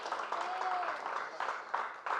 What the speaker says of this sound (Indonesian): Oke, boleh minta tepuk tangannya